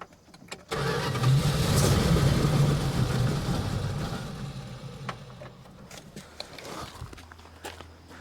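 A Plymouth Barracuda engine cranks after a click, a sustained churning turnover for several seconds that gradually weakens and fades, followed by a few faint knocks and a low hum.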